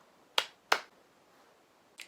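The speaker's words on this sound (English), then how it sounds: "Please, 2 claps together for Jack." Two sharp, quick claps ring out close and clear in a quiet room, followed by a fainter third tap.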